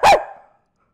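A person's voice imitates a dog's bark to scare off thieves in a Minecraft role-play, giving one short, loud bark-like yelp that trails off quickly.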